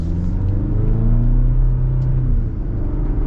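A 2024 Chevy Colorado WT pickup accelerates with a deep, close engine rumble whose pitch climbs steadily as it pulls strongly for a few seconds, loud and steady with no talk.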